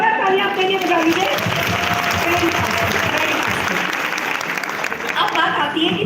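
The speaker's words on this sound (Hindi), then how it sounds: "एक बार जोरदार तालियां आपके लिए बजा दीजिए" Loud, sustained applause from an audience at a motivational business talk, dense clapping holding steady for several seconds with crowd noise mixed in.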